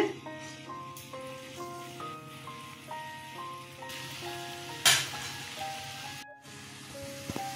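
Sweet potato langcha dumplings fry in hot white oil over a medium flame, giving a steady, close sizzle that runs the whole way under background music.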